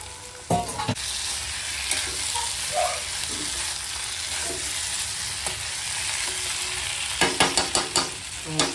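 Dried fish is tipped into a masala with a couple of pieces of kokum and fried, with a continuous close sizzle and a few sharp spoon-on-pan scrapes and knocks near the start and in a cluster at the end. No voices.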